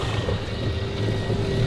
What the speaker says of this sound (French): Oh là là, il accélère, l'avion.